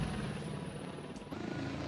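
Sikorsky S-76C++ helicopter in a flight simulator game, in stable flight: a continuous, even rotor and turbine drone with a faint high whine, steady and unbroken.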